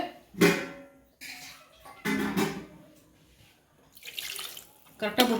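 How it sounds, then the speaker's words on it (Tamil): Water poured into a pressure cooker for home-cooked biryani, coming in several short splashing bursts with quiet gaps between them, near and fairly soft. "தண்ணி விட்டுக்கலாம் ஃப்ரெண்ட்ஸ். உங்களுக்கு தேவையான அளவு."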